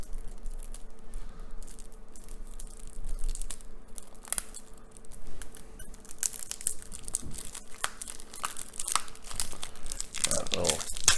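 Crinkling, tearing plastic wrapper being pulled open on a board game card pack, with close, irregular crackles and rips that grow louder and busier toward the end.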